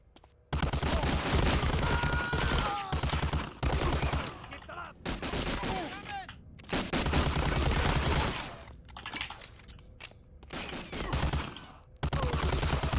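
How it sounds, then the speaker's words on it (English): Relentless enemy gunfire in Medal of Honor: Allied Assault, heavy overlapping rifle and machine-gun bursts that stay loud almost throughout, broken by a few short gaps. "I like how they just keep shooting me"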